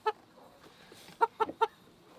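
A few short hen clucks: one at the start, then three quick clucks in a row near the end, fairly close and clear.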